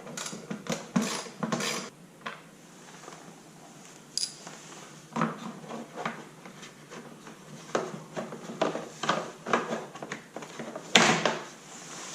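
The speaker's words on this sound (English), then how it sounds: "First thing I'm going to do is remove a couple screws. There's a 3/8 inch socket." A ratchet fitted with a 3/8 inch socket loosens screws on a snowblower during a belt replacement, giving close, fairly quiet clicking and metallic ratcheting in irregular bursts, with a few sharper knocks and no talking.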